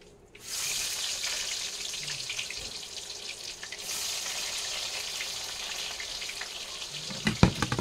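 Onions frying in a pan for a chicken curry, a steady close sizzle that swells after a quiet start and holds evenly, with a few sharp knocks of a utensil near the end.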